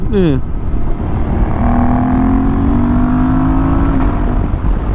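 Road traffic and engine noise surround a rider on a Suzuki V-Strom 800 motorcycle, a loud, steady low roar with a rising tone sweeping up briefly, without talk.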